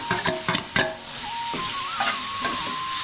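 Vegetables stirred into hot frying spices of turmeric and garam masala in a pan with green chili and curry leaves, a steady sizzle with a few sharp scraping stirs near the start, no talk.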